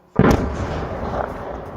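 A single sudden loud explosion in Crimea with a deep boom, followed by a rumbling roar that lingers and slowly fades.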